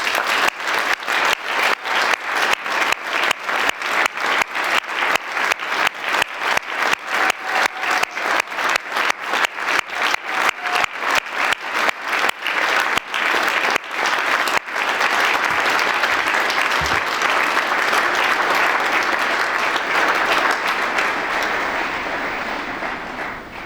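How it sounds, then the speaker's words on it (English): Graduates at an Open University degree ceremony in Dublin receive a long round of applause: crisp rhythmic clapping in unison for about fifteen seconds, then a loud, dense wash of free clapping that slowly fades. "let's start today's ceremony by giving all our amazing graduates a huge round of applause"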